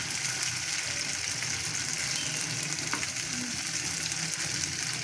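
Chicken pieces for teriyaki fry in a pan, a steady, loud hiss of sizzling oil with no talk over it.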